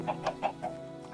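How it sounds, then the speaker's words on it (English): Chickens clucking inside a Minecraft game world, a run of four or five short rhythmic clucks at moderate volume with no talking over them. "I'm hearing a lot of chickens in here, though."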